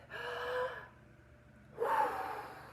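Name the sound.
narrator imitating a dragon's huge deep breath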